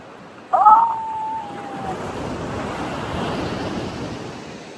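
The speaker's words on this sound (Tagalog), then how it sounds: "Yung maririnig mo lang ang alon." Surf washing onto a scenic shore, a steady broadband wash under light wind noise, with a brief tonal squeal near the start.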